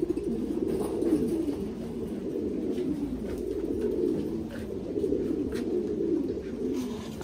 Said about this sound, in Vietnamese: Đây là bồ câu gà Mỹ này.